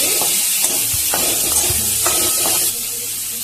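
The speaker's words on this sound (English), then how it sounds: "Just stir it for a while, all the ingredients which are put in the kadai." Boiled potatoes and chopped onions frying in a kadai, a steady close sizzle with soft scraping stir strokes every half second or so, the hiss easing slightly near the end.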